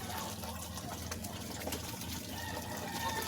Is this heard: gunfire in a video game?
no